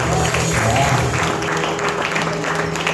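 A church congregation at a Christian camp session claps together for the Lord, steady, loud group applause filling the whole moment.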